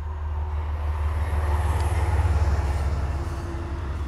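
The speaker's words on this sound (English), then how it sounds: "sorry, a train's going by." A passing train rumbles with a steady low roar and a rhythmic clatter of wheels, loud and continuous for a few seconds, with no talking over it.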